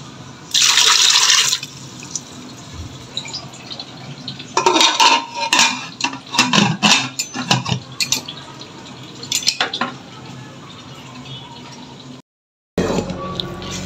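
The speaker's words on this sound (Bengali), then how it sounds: "আর একটু জল দিব যাতে আলুটা একদম খুব ভালোভাবে সিদ্ধ হয়।" Water is poured and splashes into a pot of sweet potatoes set to boil, among clattering of metal pots, utensils and stirring, with bursts of clinking in the middle and a brief silence near the end.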